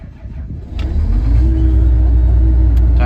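John Deere 9770 combine harvester engine starting up, a short cranking burst followed by the diesel catching and settling into a loud, steady, deep idle rumble close by.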